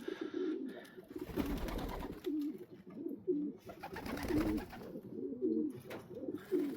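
Pet pigeons in winter coo in repeated low, rolling phrases, several calls in a row close by, with rustling and light handling noise between them.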